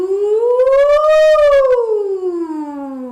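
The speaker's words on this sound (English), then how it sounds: "you start at a comfortable low note, you glide up to a comfortable high note" A single sustained voice slides smoothly up from a low note to a high one, then glides back down, loud and close.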